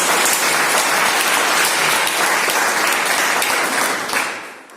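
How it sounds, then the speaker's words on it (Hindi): Loud applause from a business meeting audience celebrating a rank, a thick sustained wall of clapping from many hands that stays strong and then tapers off quickly in the final second. "इस रैंक के लिए एक बार जोरदार तालियां पहले तो लीजिए"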